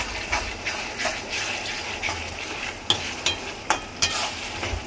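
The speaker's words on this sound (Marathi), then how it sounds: "तर हे अद्रक लसूण पेस्ट टाकून फ्राय करून घ्यायचं जरा 2 मिनिटं." Ginger garlic paste frying in a pan while being stirred, a steady close sizzle with scraping and clinks of a spoon against the pan, a few sharper knocks near the end, no talking.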